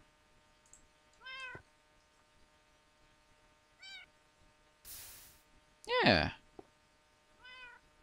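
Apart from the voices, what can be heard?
cats meowing in video game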